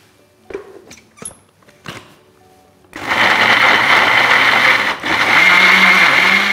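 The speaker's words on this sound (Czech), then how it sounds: "Takhle připraven základ na smoothie jednoduše rozmixujeme." Kitchen blender blends a green smoothie of avocado, lemon, kiwi, banana and coconut water, starting after a few light clinks and then roaring loud and steady, with one brief dip as the load shifts.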